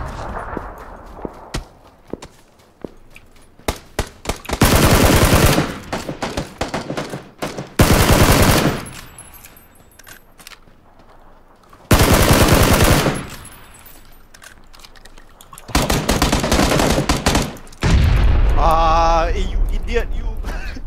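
Gunfire in a PUBG squad match comes as loud, dense bursts of automatic fire and rapid volleys, repeating in long blasts between quieter stretches, with single shots and a player's voice heard between them.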